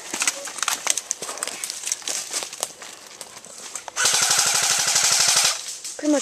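Airsoft guns crackle in an airsoft war, scattered shots first, then a loud rapid burst of automatic fire for about a second and a half, close by.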